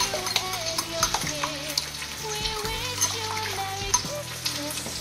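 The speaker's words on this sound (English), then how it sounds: "And then we will whisk all of the ingredients together." Eggs and wet ingredients for panettone French toast are whisked in a bowl, giving irregular close scraping and clinking strokes over a steady background hiss, with no talking.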